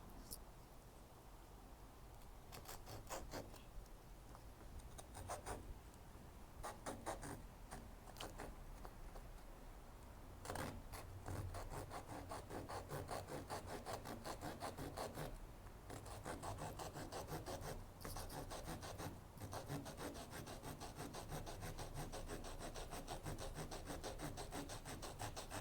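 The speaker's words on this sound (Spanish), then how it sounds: "Es impresionante cómo corta este serrucho," A small saw blade on a multi-tool pocket knife cuts through wood, giving steady back-and-forth rasping strokes that run almost the whole time at moderate volume, close by.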